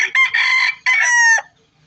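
A yellow-legged rooster crows twice in close succession, loud and near, each call a long bright sustained crow with no talk over it.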